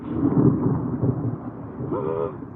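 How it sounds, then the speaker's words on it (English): A low, rolling rumble of thunder during a hurricane fills the clip, broad and steady, with a brief voice near the end. "Thunder."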